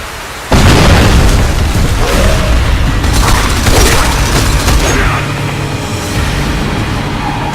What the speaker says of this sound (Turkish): Bomba kuruyorum geri çekilin.